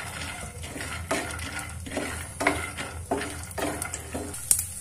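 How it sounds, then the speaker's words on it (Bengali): Raw peanuts lightly frying in refined oil in a pan, a constant soft sizzle broken by regular scraping strokes of a spoon roughly every second, close by. "তাই তেলের মধ্যে এই বাদামগুলো দিয়ে দিলাম, আর খুবই হালকা করে ফ্রাই করব।"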